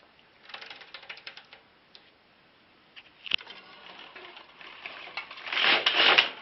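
A domestic knitting machine carriage runs across rows, giving rattling mechanical clicks and ratchet-like clatter that builds into a louder whirring pass near the end, close and without talk.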